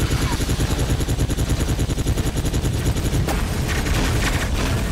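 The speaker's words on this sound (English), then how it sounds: "He just fired missiles up. He's gonna come down on me." Missiles launched by an enemy war tech in the video game War Tech Fighters, heard as a dense, loud, continuous barrage of rapid booming bursts with no pause, swelling into a sharper blast near the end.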